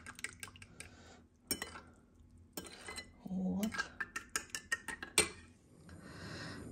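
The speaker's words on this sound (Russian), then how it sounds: "Теперь у нас с вами задача все это аккуратно, прям вилкой, взболтать." A fork clinks rapidly against a bowl in short bursts of quick taps, whisking milk, with a brief liquid swish between them, close and fairly clear.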